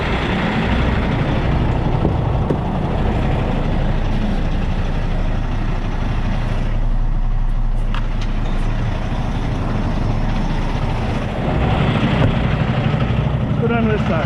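A wrecker truck idles with its PTO engaged, a steady low diesel rumble running throughout, loud and close, with some talking over it.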